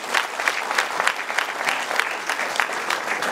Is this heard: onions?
no